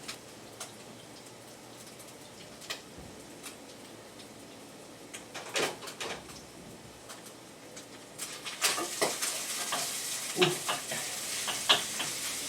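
Faint, steady sizzling of beef and rice cooking in a pan, growing louder and crackling more in the second half, with occasional utensil clinks.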